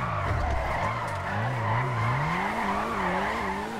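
Tires skid and squeal through a continuous drift in a GTA 5 FiveM race, a Maserati GT Liberty Walk pushed with a clutch kick on a canyon run, engine whine rising and falling steadily and loud throughout.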